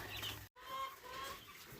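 Chickens clucking softly outdoors on a farm in March, a few brief calls spread across a steady faint background with a short silent gap partway through.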